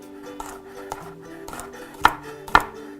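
A knife slices garlic lengthwise on a cutting board with light taps and then two sharp, louder chops close up, in a quiet setting with no talking.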